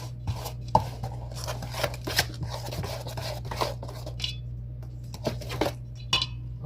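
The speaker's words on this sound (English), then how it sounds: "Get your eggs mixed up in there." Eggs being mixed into a Mexican cornbread casserole batter in a bowl, with soft scraping and stirring plus light clinks of a utensil against the bowl, over a steady low background hum.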